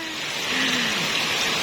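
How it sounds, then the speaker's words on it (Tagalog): Steady rain falls outside on a garden, a close, even hiss of drops hitting plants and ground that swells slightly louder midway and continues without a break. "ilang araw nang umuulan, sobra na ang kanilang dilig"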